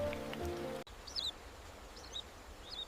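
Driving rain during a storm at a baby tailorbird's nest patters steadily as a soft, close wash, with faint high bird chirps breaking through a few times after a brief tonal opening.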